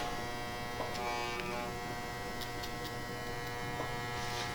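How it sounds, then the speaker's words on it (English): Hair clipper with its guard removed running close, cleaning up areas during a textured top fade haircut; a steady electric buzz continues throughout with faint clicks of cutting. "just get my clipper all the way open with no guard, and I'm just gonna clean up certain areas"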